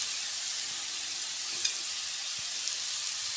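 Radish pieces dropped into hot oil with fried dry chillies in a pan, producing a steady, even sizzle that hisses continuously throughout with a brief clink near the middle.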